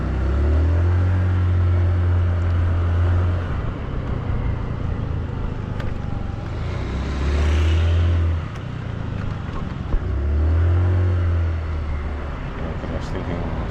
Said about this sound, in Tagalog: Car is just signaling to go to the right.